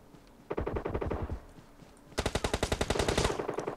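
Rapid bursts of automatic gunfire from the mobile battle-royale game PUBG Mobile on the Sanhok map, with one loud volley, a short pause, then a second, denser string of shots close by, no talk over it.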